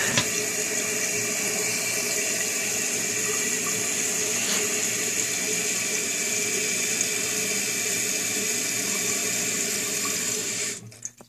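Toilet tank refilling after a flush, a continuous close hiss and rush of water flowing steadily for several seconds before cutting off abruptly.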